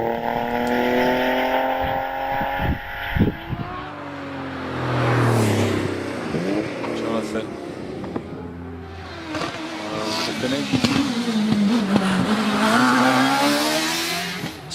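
Porsche 911 hillclimb race car in class C3 at Harewood, engine screaming and revving through gears with bursts of tyre squeal, loud and near, later fading off, with commentary over it.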